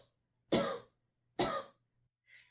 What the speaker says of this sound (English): make yourself cough 2 or 3 times